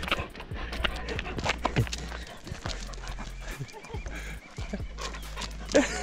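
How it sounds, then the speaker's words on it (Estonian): A playful stray dog met on a hot morning during a pilgrimage walk, heard as sharp panting and short vocal bursts close by amid outdoor bustle, with voices talking now and then. "Leidsime koera. Tahab mängida."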